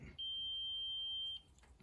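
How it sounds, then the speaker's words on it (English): A multimeter continuity test gives a single steady high-pitched beep for about a second, then cuts off, over quiet background, while testing a 1975 Dodge D100 ammeter circuit. "Beeping. So we know we have continuity from the input to all of the secondaries"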